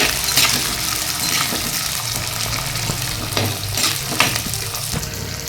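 Small onions sauté in hot oil for a fish curry, giving a loud, continuous close sizzle with crackling bursts and the scrape of stirring throughout, with no talking.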